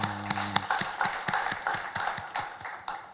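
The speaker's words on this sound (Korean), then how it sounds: "우리 살아계신 하나님께 영광의 박수 올려드리겠습니다." A church congregation claps in a steady, rhythmic beat at a moderate distance, evenly spaced claps continuing after a brief low voice at the start.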